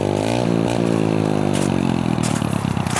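A 125cc motorcycle revs hard while being ridden in a wheelie, its engine note sweeping up through the gears and then bogging into a choppy, sputtering drone, heard loud and fairly near.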